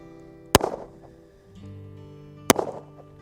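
Two loud, sharp shots from a Ruger GP100 revolver in 44 Special ring out about two seconds apart outdoors, each followed by a brief echoing tail over a faint background hum.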